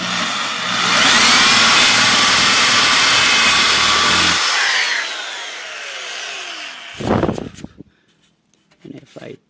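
A power drill whines at high speed as it bores through wood from the outside, loud and close for several seconds before spinning down, followed by a few brief handling knocks.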